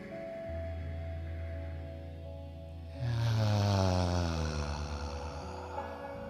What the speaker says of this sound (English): releasing with a sound of ah, just like when you wake up in the morning